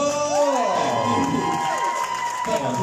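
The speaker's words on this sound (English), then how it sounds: "Give a round of applause." A talent show audience cheers and claps after a teenage rap performance, with shouting and whooping voices over a dense crowd roar.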